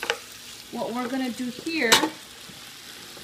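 Fajita filling frying in a pan, a steady sizzle running underneath a voice speaking briefly, with a sharp clatter near the middle.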